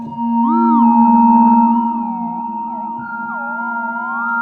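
A hollow, bell-like chromatic percussion synth tone from Retrologue 2 sustains while aftertouch bends and wobbles its pitch up and down, layered over a steady low note.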